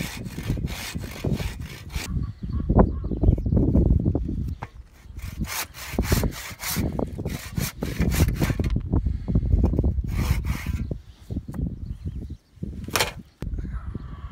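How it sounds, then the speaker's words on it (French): A hand saw cuts through wood in repeated back-and-forth strokes, roughing out the handle of a carved wooden cup, a rhythmic rasping that carries on steadily with brief pauses, close up. "nous allons prétailler l'anse ici à la scie"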